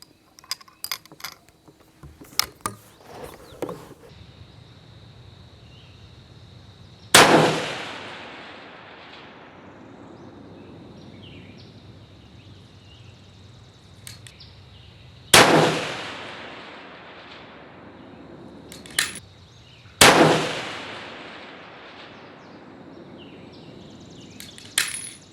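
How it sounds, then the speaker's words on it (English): Three loud, sharp rifle shots from an 1885 Winchester at an outdoor long-range shooting session, spaced several seconds apart, each ringing out with a long decaying echo, preceded by quieter clicks and handling of the action. "So I'm gonna start off with 3 shots, and let's see what we get, and that's my warm-up shots"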